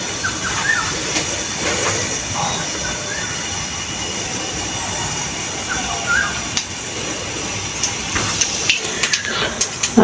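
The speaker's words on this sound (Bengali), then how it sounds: "এখন তেলের উপরে জিরা ফোড়ন দিব।" Cumin seeds fry in hot oil as part of a Bengali fish curry with tomato and coriander, giving a steady, close, crackling sizzle with scattered small pops throughout.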